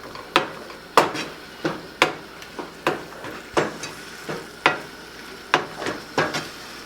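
A spoon repeatedly knocks and scrapes through tomato puree frying over a high flame, about two strokes a second, close and clear over a soft sizzle, with no talk.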